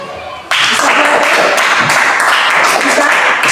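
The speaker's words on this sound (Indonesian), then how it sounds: "Baik, tepuk tangan." A class of students claps hands together in a classroom, a dense burst of many overlapping claps starting abruptly and continuing steadily and loudly.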